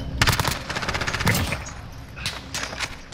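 Rapid SMG bursts from a video game shooter rattle out in quick repeated volleys, a dense stutter of shots at first, then a few shorter trailing bursts, loud and close with no talking.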